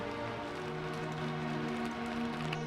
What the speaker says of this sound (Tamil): சீக்கிரமாவே மழை நின்றுடும்